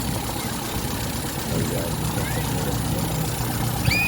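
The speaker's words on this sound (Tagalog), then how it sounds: "makina na yan, 4K, medyo palyado" A Toyota 4K engine idles roughly with a misfire, a steady low mechanical drone with uneven rumble running throughout at close range.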